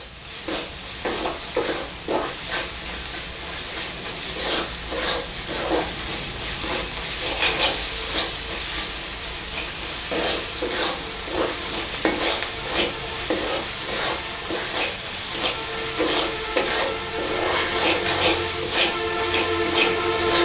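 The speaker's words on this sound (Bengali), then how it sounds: "এবার সকল উপকরণগুলোকে ভালোভাবে নেড়েচেড়ে আমরা মিক্স করে একটু জ্বালিয়ে নিব" Beef with spices and salt being stirred and fried in a pan: steady loud sizzling and hissing with repeated scraping stirs of a spoon against the pan, close up and continuous, with no voices.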